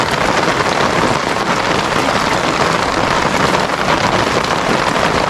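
Heavy rain pouring down steadily, a loud, dense, unbroken hiss of drops striking surfaces close by, with no voices.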